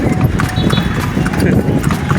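Horse hooves clip-clop steadily during a ride, a continuous rhythmic clatter mixed with street noise while people talk throughout.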